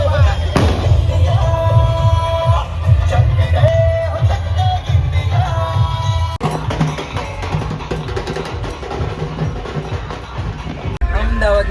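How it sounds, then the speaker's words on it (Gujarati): Dense, continuous crackling and popping of firecrackers celebrating a cricket match win in Ahmedabad, with music and voices mixed in underneath. "જો ફટાકડા ફૂટે"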